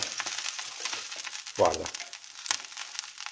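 Organic eggs fry in a non-stick pan with a soft continuous sizzle and a brief louder crackle as they are handled, while a person speaks briefly.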